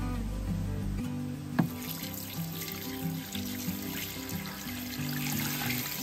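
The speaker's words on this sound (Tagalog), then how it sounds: "Lagyan na po natin ng tubig." Water poured into a cooking pot while making pares, a steady splashing trickle under a persistent low kitchen hum and background music, with one brief clank partway through.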